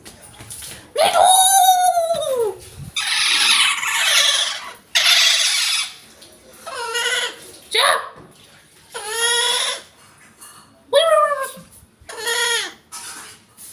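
A pet parrot screams in loud, harsh bursts with strongly pitched, sweeping calls, several separate shrieks spread through the stretch, close to the microphone with brief pauses between them.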